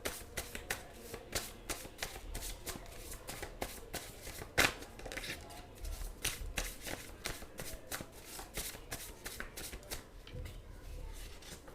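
Tarot cards from a pink deck being shuffled by hand, a quick close run of riffling flicks and soft slaps repeating in bursts, with a sharper snap partway through and occasional faint talk.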